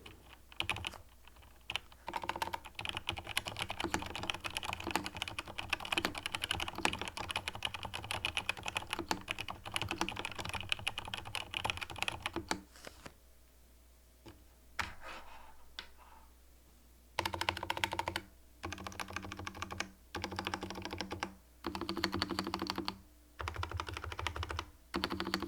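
Rapid keystrokes on a Razer BlackWidow V4 Pro gaming keyboard with yellow linear switches and a transparent housing, steady bursts of close, even clacking with short pauses, no voices.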